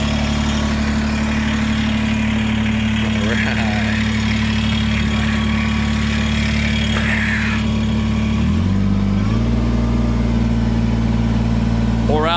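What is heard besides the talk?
tractor engine idling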